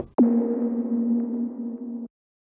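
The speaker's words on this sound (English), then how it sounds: "the same with a lot of reverb" A single 909 kick drum hit with heavy reverb gives a sharp attack and then a deep, sustained booming tone that rings for about two seconds before cutting off.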